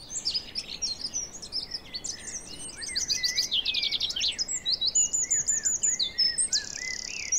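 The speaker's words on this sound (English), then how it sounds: "The trees are alive with a chirping song contest." Many birds sing and chirp in trees during the spring mating season in the northern Jura mountains of Switzerland, with overlapping high trills and whistles over a dense continuous bed of calls, close and lively.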